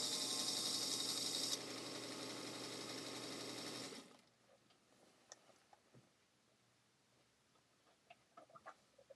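A 1941 Featherweight sewing machine running fast with a steady, smooth mechanical whir, close and continuous for about four seconds, then stopping; a few faint clicks follow.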